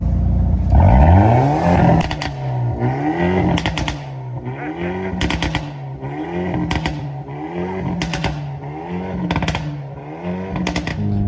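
A Hyundai i30N engine heard from inside the cabin revs repeatedly, rising and falling in pitch, with sharp crackles and pops between the pulls.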